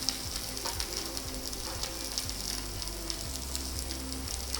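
Rava dosa with onion cooking on a hot tawa, a steady close sizzle and crackle running evenly throughout with no talk.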